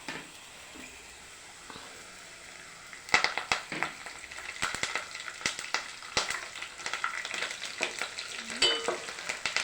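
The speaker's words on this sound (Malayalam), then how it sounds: "ഇഞ്ചിയും വെളുത്തുള്ളിയും പച്ചമുളകും എല്ലാം മൂത്ത് വന്നിട്ടുണ്ട്. കറിവേപ്പില ഇട്ട് കൊടുക്കാമേ." Curry leaves dropped into hot oil with ginger, garlic and green chilli for passion fruit pickle. A quiet simmer bursts into louder crackling sizzle partway through, followed by stirring scrapes, close and without speech.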